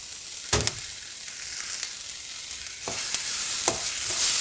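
Ingredients for prawn gravy (eral thokku) sautéing in a hot pan, a steady close sizzle broken by a few sharp clacks of a stirring spoon against the pan, with no talking.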